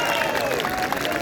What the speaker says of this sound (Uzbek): Bir qarsak beringlar.